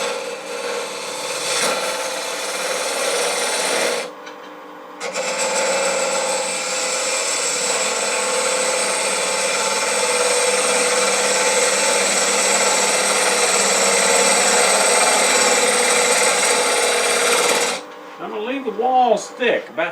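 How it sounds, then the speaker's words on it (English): A 1/2 inch spindle gouge cuts into spinning wood on a lathe, hollowing a mortar and pestle blank with a loud continuous scraping hiss, broken by one short pause and ending with irregular chattering scrapes. "I'm going to start the hollowing with the traditional in-grain hollowing with a spindle gouge"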